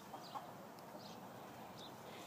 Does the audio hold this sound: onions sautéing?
no